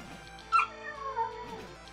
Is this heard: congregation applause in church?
no